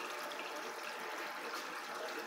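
Water splashing and churning in a 600-litre home aquarium, a steady close rush of broadband splashing with no voices.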